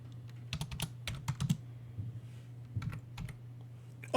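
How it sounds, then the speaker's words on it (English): Computer keyboard typing in irregular bursts of quick, light key clicks over a steady low hum, close and quiet with no voice. "while I'm typing"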